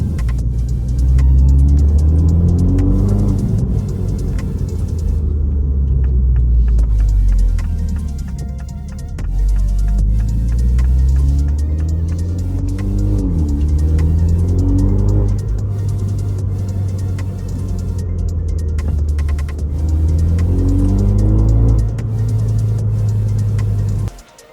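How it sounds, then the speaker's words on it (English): MINI F56 John Cooper Works with its stock intake, pulling through gears: deep engine and intake roar rising in repeated sweeps, a brief lift in the middle, loud and close throughout with no talking. "Show you some clips now of how the intake sounds originally"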